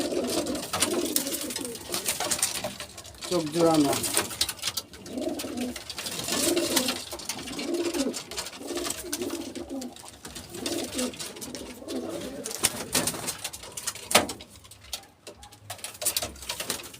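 Racing pigeons of one colour coo in a steady, overlapping chorus close by at a pigeon farm, with people talking intermittently over the birds.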